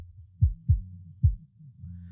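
A soloed bass line processed with Ozone 9 mastering software: three deep thumping low notes with soft rumbling tones between them, alone and fairly quiet.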